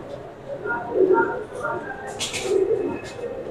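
A pair of Royal Teddy breed pigeons coo in soft, low, repeated calls, with a voice talking over them throughout.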